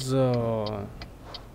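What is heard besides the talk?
turn signal indicator ticking in Euro Truck Simulator 2 video game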